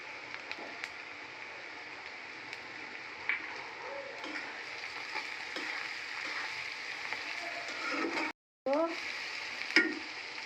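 Onions sizzling steadily in a pan while frying until reddish for a chutki dish, with occasional stirring scrapes and clinks; a brief cut near the end.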